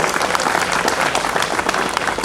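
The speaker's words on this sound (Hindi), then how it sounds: "कृपया जोरदार ताली बजा दो।" Audience applause fills a Delhi Star Award ceremony for honoured social workers, a dense, steady wash of many hands clapping close and loud, with no voices over it.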